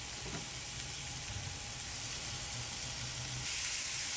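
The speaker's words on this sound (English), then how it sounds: "While the vegetables are sauteing" Vegetables sauté in a preheated pan, giving a steady, close sizzle with soft crackles throughout and a slight rise in hiss near the end. No one speaks.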